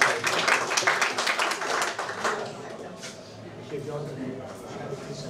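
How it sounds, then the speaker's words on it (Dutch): An audience applauds a Partij van de Arbeid council member at a neighbourhood news-café discussion, with loud, close, dense clapping that tapers into scattered claps and murmuring. "Dames en heren, uw applaus voor Partij van de Arbeid raadslid Giselle Schelkens."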